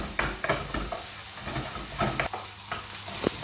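Herbs and garlic sizzle in a frying pan, with a steady crackle beneath repeated close stirring scrapes and clinks, and no voices.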